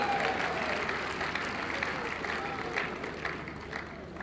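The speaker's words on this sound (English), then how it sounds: "a resounding round of applause for him." Audience applause at a gathering honouring a pastor, a fairly faint, diffuse wash of clapping with crowd murmur that continues steadily for several seconds.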